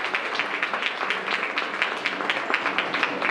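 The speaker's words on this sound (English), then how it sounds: "I think this deserves a huge round of applause in the class." Applause from a class at a law college degree distribution ceremony, a steady wash of many hands clapping at moderate distance, even and sustained throughout.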